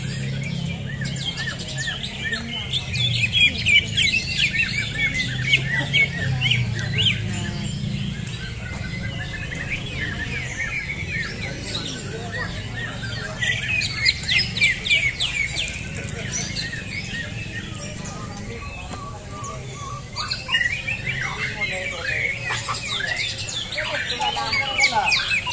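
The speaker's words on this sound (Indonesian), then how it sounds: "Semaraknya Kicau Mania lomba burung di Telaga" Many caged songbirds at an outdoor bird-singing contest at Telaga Cibinong trill and chirp in repeated loud bursts over a low crowd murmur, with people chatting nearby.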